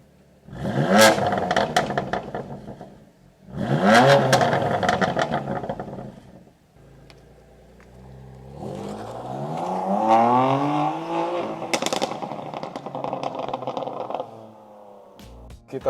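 A BMW M2 Competition engine revs hard while driving, two sharp rising bursts followed by a longer pull climbing through the gears, loud and close with rattly mechanical texture between them.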